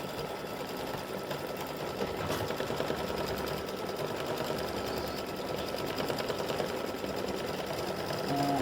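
An embroidery machine stitches the background fill of an appliquéd St Patrick's Day gnome design, a rapid, even needle chatter running steadily at moderate level throughout, close by, with no talking.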